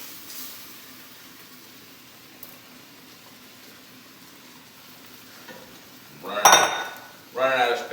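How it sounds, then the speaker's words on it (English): A spinach and bacon mixture scooped out of a pan into a bowl: a soft background hiss gives way to two loud bursts of spoon scraping and clattering against cookware near the end. No talking. "So I'm going to take this mixture out of here and put it in this bowl for a few minutes."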